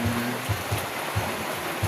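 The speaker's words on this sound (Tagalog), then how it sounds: "ulan na hapon" Afternoon rain makes a continuous hissing wash, with soft rhythmic low thumps repeating about every quarter to half second beneath it. No voices are heard.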